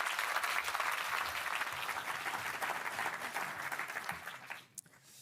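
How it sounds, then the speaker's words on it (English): Audience applause welcoming the Dutch defence minister at a meeting with the European Union, a dense sustained clatter of many hands that holds steady, then thins out and fades near the end. "Please give him a warm applause."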